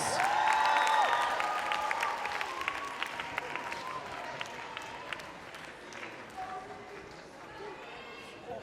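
An audience at a scholars' debate showcase applauds the panel of judges, sustained clapping that swells at first and then thins out gradually, with a voice over the start.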